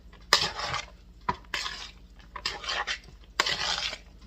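A spoon stirs and tosses black-eyed pea salad in a bowl, making four bursts of wet, scraping, clattering mixing sounds with short pauses between them, close and clear.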